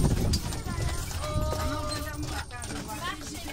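Horse hooves clip-clop at a steady walking rhythm on an outdoor trail in a bison park, moderately close, with people talking over them throughout.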